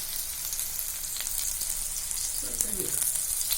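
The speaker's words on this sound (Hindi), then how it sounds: "तेल हमारा गर्म हो गया है। अब हम इसमें लहसुन डालते हैं हरा" Steady hiss and crackle of garlic and green chili sizzling in hot oil, with a brief louder burst of sizzling near the end and faint voices in the background.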